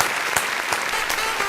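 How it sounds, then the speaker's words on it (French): Audience clapping at a morning show, a brief dense burst of applause from a small crowd, steady and close, with no cheering. "Franchement, applaudissements."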